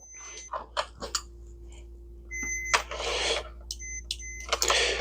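Continuity tester beeping while probing the pins of a Nissan Z32 fog light switch, short high tones coming in several separate bursts of varying length, close and clear over faint clicks and handling noise.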